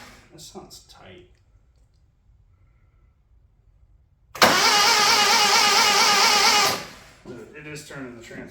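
A Toyota 4A 1.6L engine in a Tercel wagon cranks over on the starter for about two and a half seconds, a loud steady whirring drone with no start, between quiet pauses and brief talk.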